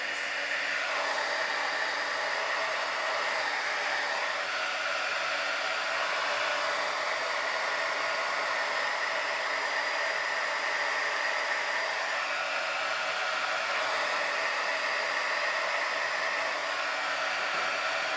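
Hair dryer blowing on fabric flowers, a loud, constant close-up whoosh and motor whine that runs unbroken for the whole stretch with no talking.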